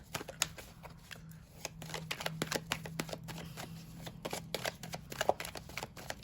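Tarot cards shuffled rapidly by hand, a dense crackling riffle of overlapping card flicks that continues steadily and up close with no pauses.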